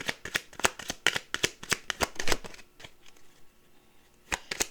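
A deck of tarot cards being shuffled by hand, a quick run of crisp riffling flutters and slaps close up, then a brief pause and a couple more card snaps, with no one talking.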